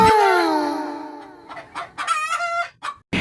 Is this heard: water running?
no